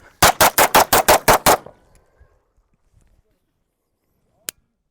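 A rapid string of seven loud, close gunshots from a handgun fired from the hip during a shooting drill, evenly spaced, then near silence with faint shuffling and one sharp click toward the end.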